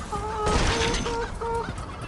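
Chickens in the Dead Trigger 2 video game clucking repeatedly, close and clear, several overlapping calls in quick succession over a dense game background, with no talking.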